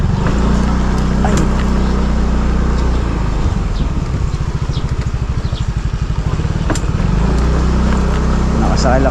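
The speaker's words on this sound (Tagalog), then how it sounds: "Nakasakay lang sa motor natin" A motorbike rides along, its engine giving a steady low drone that swells and roughens midway, with rushing wind noise throughout.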